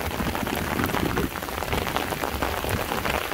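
Heavy rain pouring down outdoors during a strong storm in Condado, northern Minas Gerais, a dense, loud, continuous hiss of water hitting the ground and pavement.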